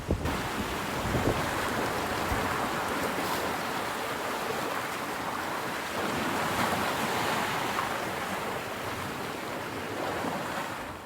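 Surf rolls steadily onto a beach on Prince Edward Island, a dense continuous roar of breaking waves mixed with gusting wind buffeting the microphone, with no voices.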